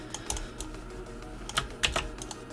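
Fingers tap on an expensive computer keyboard in short irregular bursts, crisp clicky keystrokes heard close and alone at low volume.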